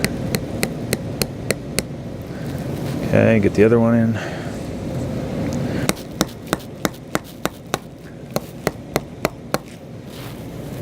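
A small nail is hammered into a wood carving to fit a hanger: a quick series of sharp, evenly spaced metallic taps, close and loud, with a brief spoken pause in the middle before the tapping resumes.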